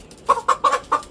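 Chickens cluck in a quick run of four short, close calls, clear against a quiet background.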